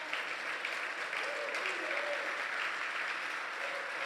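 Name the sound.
congregation applause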